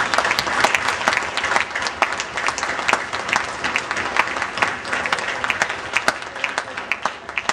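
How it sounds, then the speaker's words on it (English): A rally audience in Ridgecrest, California claps in a sustained, dense round of applause that stays steady and loud throughout, with sharp individual claps crackling through the crowd noise. "I want everybody to just give them a round of applause"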